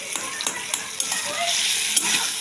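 Tomato frying in a pan beside fried potatoes, with a close sizzle broken by repeated scraping stirs of a spoon at a fairly even rhythm, no speech.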